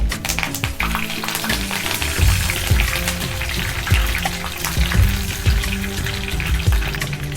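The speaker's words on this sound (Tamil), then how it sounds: "வத்தல் நல்லா செவக்கிற வரைக்கும் வறுத்துப்போம்." Dried red chilies fry in oil, sizzling and crackling steadily in a pan with occasional stirring clinks, close and continuous, no talking.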